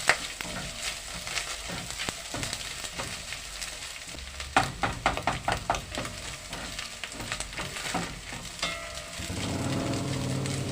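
Garlic sizzles and crackles steadily in a hot pan for a spaghetti bolognese sauce, with a burst of sharper spitting pops midway and a louder, denser sizzle near the end.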